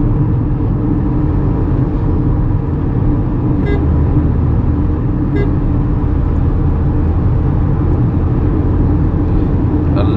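A Tata Punch Adventure AMT car driving on a road, heard as a continuous loud low cabin rumble of engine and tyres with a couple of faint clicks.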